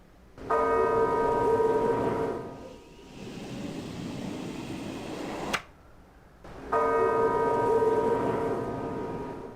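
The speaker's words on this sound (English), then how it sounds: "Alright, now we got the church. Probably the sound of a bell." In The Simpsons: Tapped Out video game, a church bell tolls loud and resonant, two long rings separated by a softer washing ambience and a brief sharp click.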